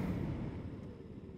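TVS Apache RR 310 sport motorcycle ridden hard in sport mode and braking from about 70, a steady close, low rumbling engine and wind roar with no talking.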